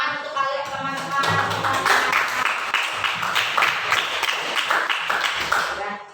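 Students in a primary-school classroom clap together after a lesson, a dense burst of fast applause that holds steady for several seconds, with voices calling out over it.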